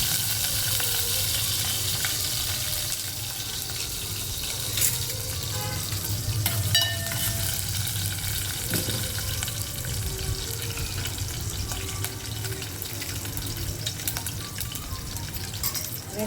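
Mustard seeds, cumin and green chillies fry in hot oil for a drumstick dal sambar, a dense, loud, continuous crackling sizzle with occasional stirring, and no talking.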